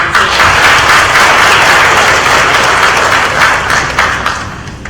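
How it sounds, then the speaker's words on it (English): A lecture audience bursts into loud, dense applause welcoming the US Ambassador to Indonesia, many hands clapping continuously close by, holding strong before tapering slightly at the end. "A round of applause for"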